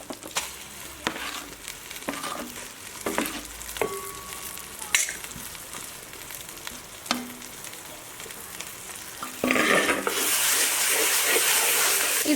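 Ground paste for kadai chicken sizzling and frying in a hot pan, with scattered scrapes and clinks of a spoon stirring, then a burst of louder steady sizzle near the end.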